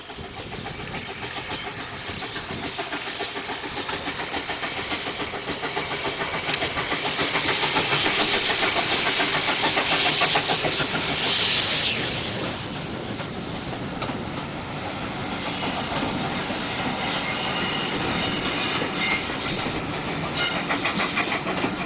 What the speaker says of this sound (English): This view of twin pannier tanks on the clifftop near Watchet is a famous photographic viewpoint